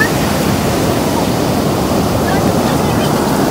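Steady roar of ocean surf washing onto shore, broad and continuous with wind buffeting the microphone, loud and close throughout.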